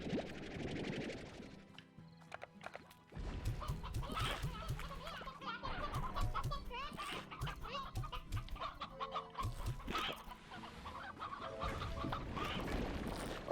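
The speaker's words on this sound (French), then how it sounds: "Des petits poulets, des petits poulets." Chickens cluck and squawk in the video game Slime Rancher, in close, busy bursts separated by short quiet gaps, with no voices over them.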